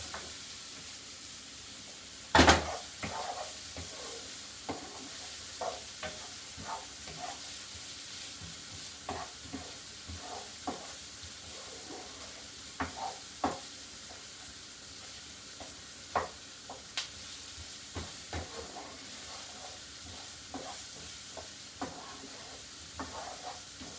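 Garlic frying in a pan with a steady low sizzle, broken by a sharp utensil knock near the start and scattered scraping stirs throughout, close and with no voices.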